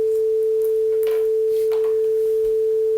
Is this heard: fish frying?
no